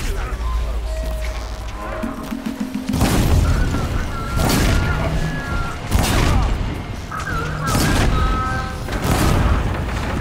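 Repeated explosions in Horizon Zero Dawn, four or five heavy booming blasts spaced a couple of seconds apart over a busy game soundscape.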